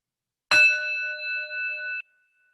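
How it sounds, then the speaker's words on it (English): A single meditation bell struck once, with a bright attack followed by a clear sustained ring of about a second and a half that stops abruptly, alone in silence. "I'm going to start and end the practice with the chime of the bell."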